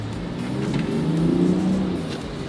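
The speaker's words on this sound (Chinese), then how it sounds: "柴油车其实你可以听它，其实引擎的声音很小了。" A diesel off-road vehicle drives on a wet road in the rain. The engine hum is low and subdued and swells slightly midway, with no voices heard.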